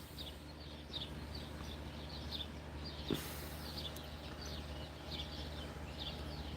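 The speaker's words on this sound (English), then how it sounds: "Hear the birds chirping." Small birds chirp outdoors on a hot New Jersey morning, faint and distant, in short repeated bursts spread through the clip over a steady background hum.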